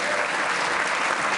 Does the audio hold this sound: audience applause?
yes